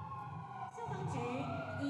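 A wailing emergency vehicle siren sounds during a Taiwan civil defense drill, steady and moderately loud with rising and falling tones amid background street noise.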